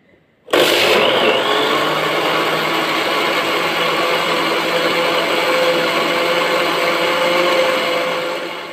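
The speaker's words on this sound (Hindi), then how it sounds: "अब हम इसको सब चीज़ों को ग्राइंड करेंगे।" A kitchen blender switching on abruptly to grind strawberries, cold milk and ice for a strawberry milkshake, then running at a steady loud whir for several seconds before easing slightly at the end.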